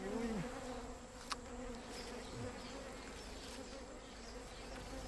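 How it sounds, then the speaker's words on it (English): Bees swarm and buzz at an unsmoked wild bee's nest while honey is pulled out by hand, a steady faint hum with individual insects droning close past the ear. "These guys are putting their hands into an unsmoked bee's nest and pulling out honey."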